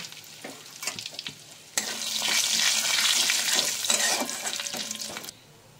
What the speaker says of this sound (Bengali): দিয়ে দেব গোটা গরম মশলা আর তেজপাতা। একটু নেড়ে চেড়ে ভেজে নেব।